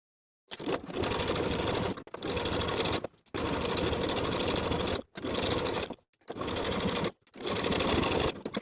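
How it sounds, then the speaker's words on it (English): Sewing machine stitching in the ditch of a collar stand seam on a blouse, running in six or seven bursts of about a second each separated by short pauses, close and steady. "we can stitch in the ditch of that main seam where our pin enters the fabric"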